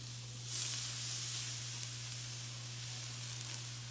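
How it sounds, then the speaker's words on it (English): Strips of freshly caught fish sizzle on a hot grill, a steady close hiss and crackle that swells at the moment they are laid down and then holds evenly, with a low steady hum underneath. "Hear that sizzle?"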